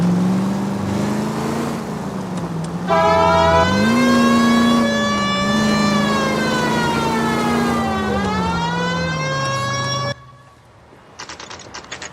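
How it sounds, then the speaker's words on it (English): A police car siren in the video game L.A. Noire wails in rising and falling sweeps over a humming car engine, loud and sustained for several seconds before cutting off abruptly, leaving quieter engine noise. "Why don't you use the siren?"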